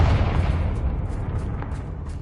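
A Confringo fire spell blasts in the Hogwarts Legacy video game, a single deep, booming burst that rumbles loudly and then slowly fades, with no voices over it.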